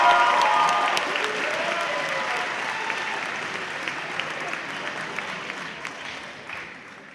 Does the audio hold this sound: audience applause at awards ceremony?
yes